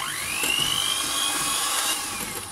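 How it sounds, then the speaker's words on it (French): An electric mixer whisks egg yolks with hot syrup toward a ribbon texture for a chocolate mousse Yule log, giving a steady high motor whine that rises in pitch at the start and holds through the clip, close and alone. "Là, on fouette jusqu'à la texture d'un ruban"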